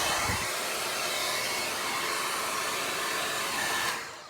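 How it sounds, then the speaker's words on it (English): Amazon hair dryer brush blowing a steady, loud rush of air for about four seconds before it cuts off, with no talking over it. "So this is just as powerful, I'd say, as a blow dryer."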